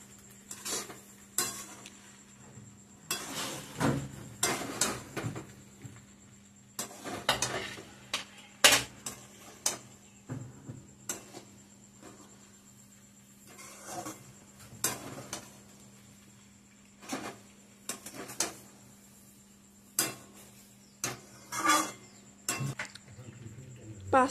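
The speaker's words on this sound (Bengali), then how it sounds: "ভালো করে এখন নাড়িয়ে নেব" A spoon stirs and scrapes through pasta in tomato sauce in a pan, producing repeated metallic clinks and knocks at an uneven rhythm over about twenty seconds, close up against a steady background hum.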